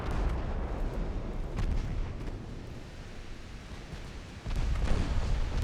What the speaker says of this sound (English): Torpedoes detonate on Kalau.